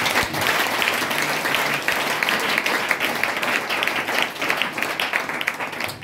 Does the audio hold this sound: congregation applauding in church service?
yes